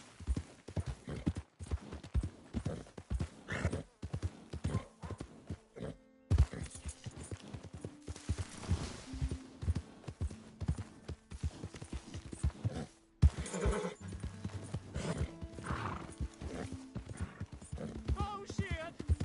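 Horse hooves clip-clop steadily at a brisk trot in the Red Dead video game, a close, even run of hoofbeats that continues throughout with faint background sounds and occasional talk.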